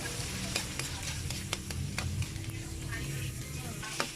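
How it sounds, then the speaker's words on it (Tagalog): Leftover adobo meat is stir-fried in a pan until crispy, giving a dense continuous sizzle with sharp spatula taps and scrapes at irregular intervals, close up. "Halo-haluin lang natin para medyo crispy yung karne"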